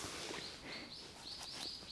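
A bird calls outdoors by a mountain field, a series of bright repeated chirps and short whistles at moderate distance over faint background noise.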